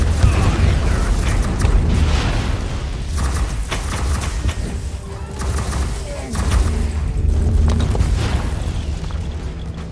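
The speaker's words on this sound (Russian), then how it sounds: "Пушки, пушки, пушечки." Cannons firing in Warhammer 40,000: Inquisitor - Martyr, a dense run of booming blasts and thuds over a constant loud rumble of battle, with a voice talking through it.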